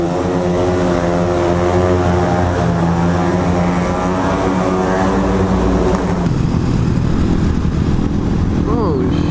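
Several motorbikes ride wheelies together through Dutch streets, a loud, steady engine drone with harmonic whine holding close, shifting in tone partway through, while riders whoop and talk over it.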